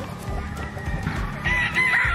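A large Shamo-breed rooster crows once, a short raspy call that is fairly clear but modest in loudness over a low rumbling farmyard background.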